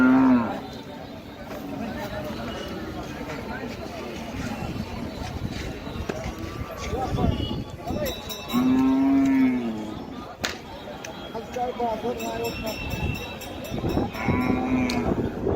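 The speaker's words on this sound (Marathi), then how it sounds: "पूर्ण काळा बैल आहे." A black bull at a cattle market gives several deep, drawn-out moos, near and loud, spaced across the scene amid crowd murmur and market bustle.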